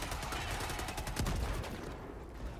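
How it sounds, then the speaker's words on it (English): Dense, rapid gunfire from the Helldivers video game, a loud continuous rattling burst of shots filling the clip with heavy low-end thumps, without clear talk over it. "I'm shooting you."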